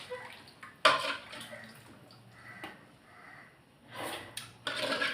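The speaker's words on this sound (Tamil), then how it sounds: "இப்போ கரைச்சி வச்ச புளியை ஊற்றிப்போம்." Dissolved tamarind water is poured into a pot of brinjal rasam in a few short, quiet splashing bursts separated by pauses.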